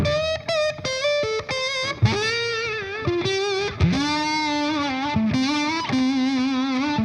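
Electric guitar with a metal slide dragged along a wound string, playing bluesy gliding notes through distortion and effects, with a gritty, scratchy edge on each sliding phrase, loud and continuous without talking.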